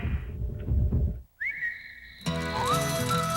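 A short, bright whistled rising note in a Chili's restaurant TV commercial, sustained briefly before music and a second whistled glide come in.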